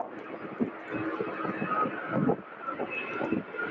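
A UPS cargo plane at Louisville airport, its steady engine roar a moderate, continuous rumble with slight swells, heard at a distance with no talk.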